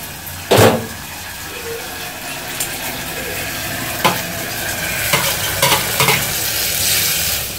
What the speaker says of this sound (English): So we have to mix the sardines with the paste.